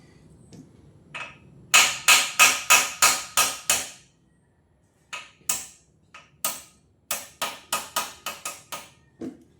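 Metal hammer strikes on a stuck steering head bearing of a Kawasaki motorcycle, two rapid bursts of sharp taps, loud and close, separated by a brief pause.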